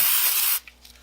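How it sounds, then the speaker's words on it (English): A single short burst of aerosol spray into BMC No. 9 locking pliers hisses loudly for about half a second, then cuts off, leaving faint handling noises. "spray some more of the junk out of it."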